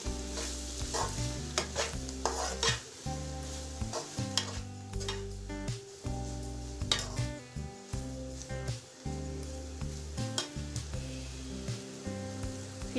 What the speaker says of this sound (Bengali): আবারও সব কিছু আমি ভালো করে নেড়ে নিচ্ছি